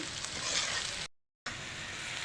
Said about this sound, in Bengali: আলুগুলো এভাবে লাল লাল করে বেজে নেবেন